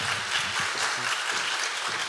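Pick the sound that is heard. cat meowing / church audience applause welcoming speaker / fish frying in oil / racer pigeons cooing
church audience applause welcoming speaker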